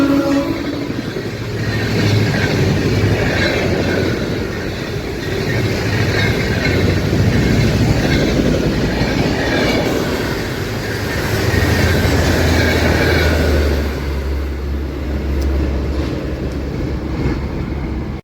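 The Shaan-e-Punjab Express, hauled by a WP4 locomotive, passes close by with a loud, continuous rumble of rolling coaches, rhythmic clickety-clack of wheels over rail joints and occasional wheel squeal.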